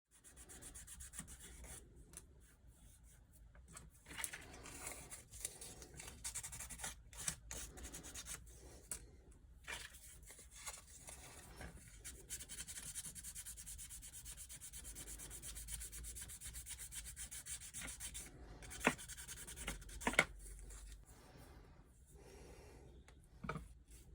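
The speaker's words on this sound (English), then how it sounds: "At first with coarse paper to remove the filing marks" Coarse sandpaper rubbing over a plastic eyeglass frame, steady scratchy sanding strokes running continuously at close range with brief pauses and no voices.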